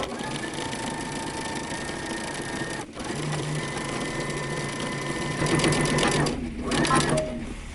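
A sewing machine understitching close to the edge of a dress facing hums steadily and close by for the whole stretch, with a brief dip partway through and slight changes in speed near the end.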